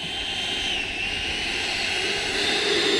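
An FW Avanti S radio-controlled jet flies past with a steady, sustained high-pitched turbine whine and airy rush, holding fairly even in loudness and swelling slightly toward the end, with no talking.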